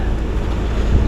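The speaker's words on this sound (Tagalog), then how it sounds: "Mahangin." Strong wind gusting at a house under renovation in Bangar, La Union, a steady loud rushing roar buffeting the microphone with no speech over it.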